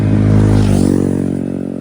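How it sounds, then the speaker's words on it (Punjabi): A motorcycle on a national highway near a bridge speeds past close by, its engine a loud rising and falling drone that swells and then fades as it goes away. "ਮੋਟਰਸਾਈਕਲ ਕਿੰਨੀ ਤੇਜ਼ ਜਾ ਰਹੇ ਨੇ"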